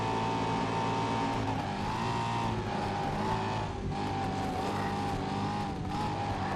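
A loud, close LMP prototype race car engine in the racing game GRID, holding a steady high-pitched drone with slight pitch dips and recoveries as it shifts, running continuously without any talk.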